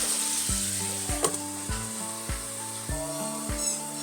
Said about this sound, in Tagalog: hintayin natin maprito up to hanggang sa maging golden brown yung isang side